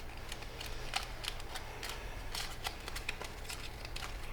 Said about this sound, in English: And now you're going to side reverse fold it from there like that, and then fold these in